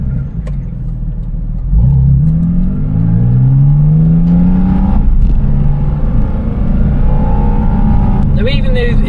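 A naturally aspirated 4-litre Porsche 718 Spyder RS accelerating hard, its engine note climbing steadily through the gears in a loud, rising rumble with brief dips at each shift, heard up close.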